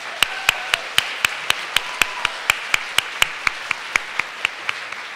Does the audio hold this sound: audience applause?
yes